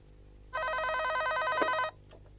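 Telephone ringing indoors in a 1997 Vietnamese drama, a single loud sustained electronic ring burst of about 1.4 seconds, then quiet room tone with a faint knock.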